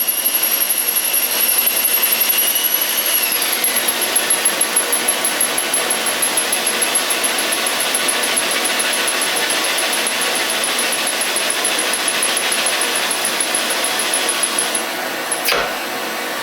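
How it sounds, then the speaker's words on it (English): A steady torch flame roars while a drill spins a brass cartridge case in it for annealing, giving a loud continuous hiss with a thin high whine that fades out near the end. "Take your case in your drill, let it start turning."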